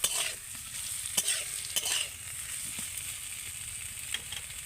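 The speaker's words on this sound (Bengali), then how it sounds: "আলুটাকে একটু ভালো করে নেড়ে নেব।" Potatoes are stirred while frying in a pan, with soft clinks and scrapes of a spatula over a quiet, low sizzle, fairly close and gentle.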